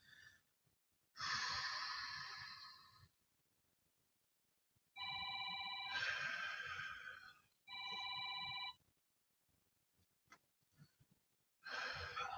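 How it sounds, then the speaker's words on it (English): A phone rings during a full-body workout class, sounding as repeated electronic ringtone bursts of a couple of seconds each with quiet gaps between them, fairly clear and close, alongside some heavy breathing. "Sorry, forgot to silence my phone this morning."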